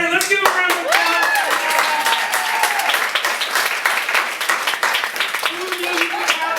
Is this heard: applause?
yes